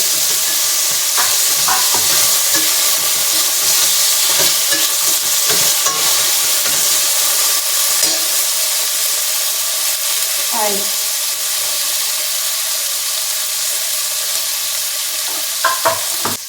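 Onion and tomato fry in a pan while being stirred, a close, loud, steady sizzle with scraping and spatter sounds, made at home while cooking palak paneer.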